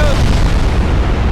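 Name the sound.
20-inch naval guns firing in Ultimate Admiral Dreadnoughts video game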